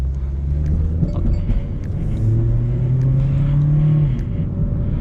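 Mitsubishi Lancer 1.6 at full throttle, a steady low engine drone rising gradually in pitch, heard from inside the cabin with no talking.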